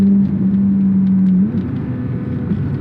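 Inside the cabin of a Corvette C8 Z06, a steady engine drone with a strong low tone holds at a constant pitch, then drops slightly, like cruising under light load.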